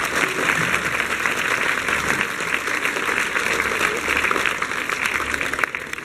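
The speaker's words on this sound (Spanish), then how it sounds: "un fuerte aplauso por el Perú" Conference audience in Huampaní, Peru, breaking into sustained applause, dense clapping from a full room holding steady for six seconds with no one speaking over it.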